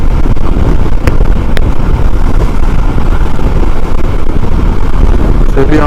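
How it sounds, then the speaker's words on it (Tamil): Heavy wind blast roars continuously over the microphone of a Panther motorcycle at riding speed, a loud, rumbling buffeting that never lets up. "சரியான விண்ட் பிளாஸ்ட்."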